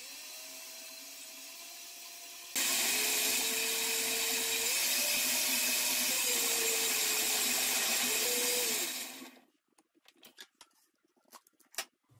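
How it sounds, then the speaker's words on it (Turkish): A blender purees chopped tomatoes for tomato sauce with a loud, steady motor roar that shifts pitch as the load changes, then cuts out, leaving scattered clicks and knocks. "Şimdi bunları blenderdan geçireceğim"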